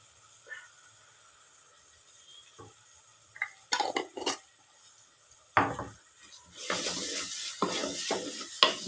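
Salted onion mixture being stirred and sautéed in a pan while frying dry fish, with a quiet sizzle and scattered scraping spoon strokes that grow busier and louder toward the end.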